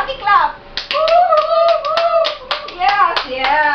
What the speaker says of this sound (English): Give yourselves a Kalapati Clap!